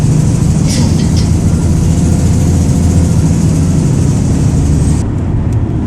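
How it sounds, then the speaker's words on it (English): Older Volvo car engine with a blowing exhaust manifold, a loud steady low rumble running throughout, with a slight drop in level near the end. "And then there was this one, which sounded very ropey indeed, blowing exhaust manifold."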